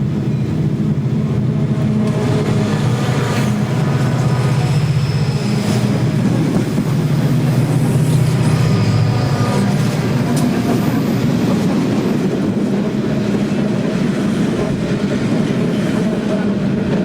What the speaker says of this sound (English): 10 locomotives on the head end of this southbound freight crossing Richardson Trestle